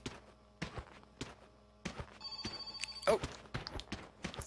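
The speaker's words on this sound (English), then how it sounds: "Phone call." Telephone ringing in the video game My Summer Car, a brief electronic ring partway through among scattered thumps and footsteps, with the game's background sounds continuing around it.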